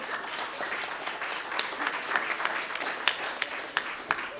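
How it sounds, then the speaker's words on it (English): A presentation audience gives a round of applause, a dense wash of many hands clapping throughout, with a few sharper individual claps standing out near the end. "another round of applause for everyone"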